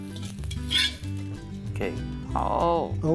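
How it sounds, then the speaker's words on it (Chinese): Grouper head and belly pan-fry in a wok, a crisp sizzle heard beneath talk and a music bed, with a few short clinks of utensils. "即系而家聽到啲聲係嗰啲坑坑聲、"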